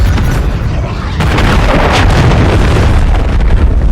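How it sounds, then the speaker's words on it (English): A friendly cruise missile strike in Call of Duty MW3 on PS5 hits with a loud, sustained roaring blast, close and rumbling with broad noisy debris that swells midway and does not fade. "Friendly cruise missile deployed."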